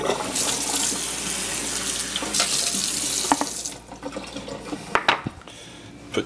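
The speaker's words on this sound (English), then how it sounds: "So we've got to dump the water." Water from a tray of sprouting alfalfa seeds is poured out into a sink, a steady splashing rush for several seconds that breaks off into a few scattered drips and splashes.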